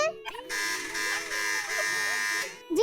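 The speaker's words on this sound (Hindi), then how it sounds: "जवेरिया, सबसे पहले आपने बजर दबाया" A quiz-show buzzer during a children's Eid quiz sounds as a steady, harmonically rich electronic buzz lasting about two seconds, with speech faintly under it before and after.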